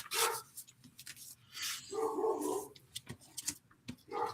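A dog barks a few short, sharp times with small yips and whimpers in between, fairly close and moderately loud, with no talking.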